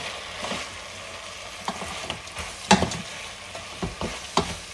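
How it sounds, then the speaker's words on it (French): Onion being stirred into a sauce frying in a pot, with a steady sizzle and a few sharp scrapes and clinks of the utensil against the pot. "Je mélange bien."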